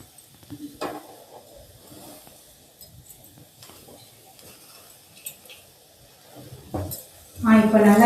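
Pineapple slices grill over medium heat and get turned now and then, giving a soft steady sizzle with scattered clinks and scrapes of a utensil against the pan, ending in a louder burst of sizzling.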